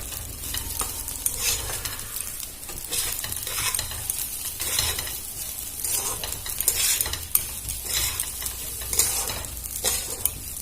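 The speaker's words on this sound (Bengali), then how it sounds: "আমার চালটা ভাজা হয়ে এসেছে মশলার সাথে" Rice sizzles with spices in a pan for a Bengali basanti pulao, while a spoon stirs and scrapes in repeated rhythmic strokes over a steady frying hiss, close and fairly loud with no voices.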